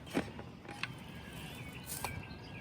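A pump sprayer's lid being twisted open for deck cleaning, giving faint plastic creaks and a few soft clicks against a quiet room background.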